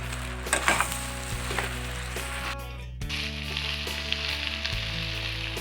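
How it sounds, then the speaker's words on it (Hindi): Vegetables frying in a pan with turmeric powder and homemade garam masala, a steady close sizzle with occasional scraping stirs, loud and continuous with no talking. "ये देखिए मैंने सब्जी में सारे मसाले ऐड करने के बाद इनको 2 से 4 मिनट तक भूनी हूँ।"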